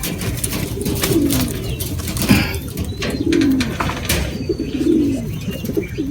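Soft, low pigeon coos repeat in a few spaced phrases over a steady outdoor background, with faint bird noises and an occasional rustle of wings.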